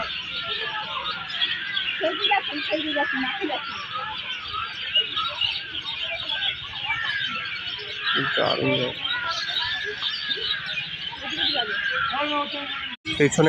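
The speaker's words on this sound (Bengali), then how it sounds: "পাখিদের কোলাহল" A flock of birds chatters busily at a wetland lake near Gobardanga, dense overlapping chirps and tweets carrying on steadily for several seconds, with occasional human voices and other sounds mixed in underneath.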